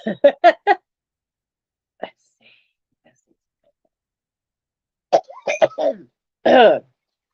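A person coughs hard: a quick cluster of four sharp coughs, a lone cough after a pause, then a rough run of hacking coughs ending in a longer, throaty one. The coughs are close and loud, with no talk.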